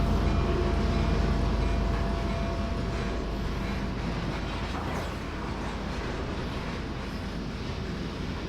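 A string of Utah and Rocky Mountain railroad cars rolls through the yard at Avery, producing a continuous low rumbling roar with a faint rattle that eases slightly over time. No voices.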